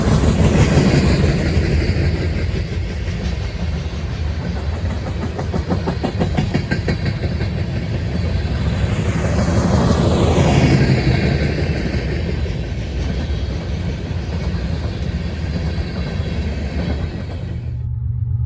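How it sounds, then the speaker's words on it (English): CSX westbound freight train Q635 rolls past at Berea, a loud, close, continuous rumble with steady clickety-clack of wheels over rail joints, holding strong for most of the pass before cutting off near the end. "next train of the day would be CSX westbound train Q635"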